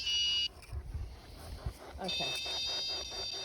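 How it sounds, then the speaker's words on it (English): A temperature alarm sounds high-pitched steady beeping at the start, then again after a pause, inside an old round house, with bumps and handling noise in between and a brief spoken word. "I'm going to put the temperature alarm on here"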